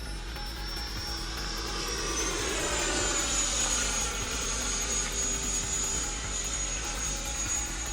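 A Horizon Hobby F-16 RC jet flies past, its steady high electric ducted-fan whine holding loud and constant, rising slightly in pitch as it passes overhead.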